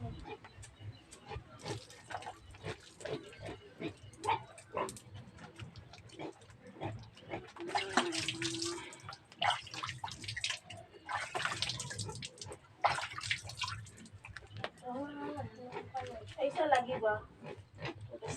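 Hands washed under running tap water in a home kitchen, heard as several splashy bursts of flowing water that come and go beneath steady conversation.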